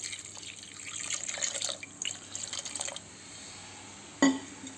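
Water poured from a glass into a pot of crab soup, a light splashing trickle for several seconds that ends with a short sharp knock.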